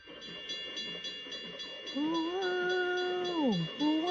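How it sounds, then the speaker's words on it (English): A train passes through a railroad crossing in the Planet Coaster game, its whistle sounding one long sliding tone over steady crossing bells and a low rolling rumble. "And for right now, we get to see the train come through"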